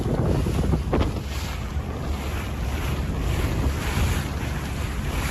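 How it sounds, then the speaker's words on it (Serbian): Gusting wind roars across the Danube while waves churn and splash near a rowing boat, a loud unbroken rush with a brief sharper splash early on. "Vidite i sami koliko duva i kakvi su talasi."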